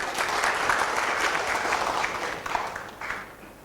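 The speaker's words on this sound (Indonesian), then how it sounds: "Tepuk tangan dong sama Tuhan." A church congregation claps together in a sustained, fairly soft wash of applause that tapers off toward the end.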